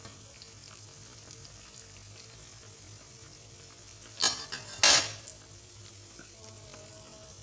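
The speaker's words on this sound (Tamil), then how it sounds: "இப்போ ஒவ்வொன்றும் திருப்பி போட்டு நல்லா ஃப்ரை பண்ணிக்கோங்க." Palampori banana fritters frying in oil, a steady soft sizzle throughout, broken by two sharp bursts of louder crackling and clinking as the fritters are flipped over one by one.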